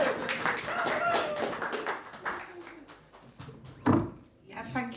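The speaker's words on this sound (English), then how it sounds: "Clap them hands" A comedy club audience claps and cheers for a comedian at a live show, a fairly loud patter of many hands that fades under a host's voice and a few sharp taps.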